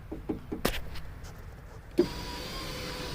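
A new power window motor in a 2003 Cadillac DHS with a 4.6 L engine starts after a few clicks and handling knocks, then gives a steady, faint electric whine as the driver side rear window is driven.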